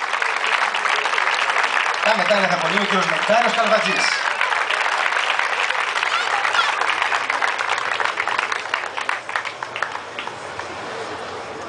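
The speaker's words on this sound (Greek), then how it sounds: "Έχει διπλό, τριπλό χειροκρότημα λοιπόν." Sustained crowd applause at a women's masters medal ceremony in 2013, a dense wash of clapping that runs the whole way and tapers slightly near the end, with a man announcing over it through a PA.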